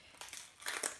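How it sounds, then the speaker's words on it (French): Crinkly plastic packaging of a debossing blade being torn and pulled open, two close bursts of crackling rustle in quick succession. "j'essaie d'ouvrir l'emballage"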